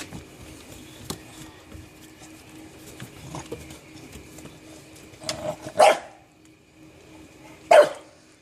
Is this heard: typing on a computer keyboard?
no